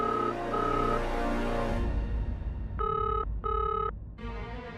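A telephone rings in repeated electronic bursts, two full rings and the start of a third, sounding loud and close after a busy musical passage.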